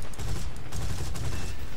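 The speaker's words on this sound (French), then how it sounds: "Je vais tirer au canon là." A Spitfire Mk IIb's cannon fires in War Thunder as a dense, continuous burst over the plane's steady engine roar, loud and unbroken throughout.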